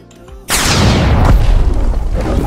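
The finger revolver attack from the leopard fruit in the game Blox Fruits fires a sudden loud blast. A long, rumbling, booming roar follows with no voices over it.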